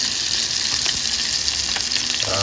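Fish frying in a pan with a steady, loud hiss and crackle of hot oil, a continuous dense sizzle with a few sharper pops and no voices.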